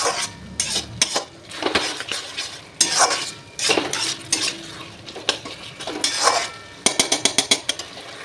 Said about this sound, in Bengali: মশলাটাকে একসাথে করে ভালো করে কষিয়ে নিতে হবে